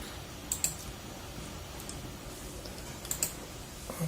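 Two pairs of faint, sharp mouse clicks on a computer, spaced about two and a half seconds apart, over a quiet room hiss with no talking.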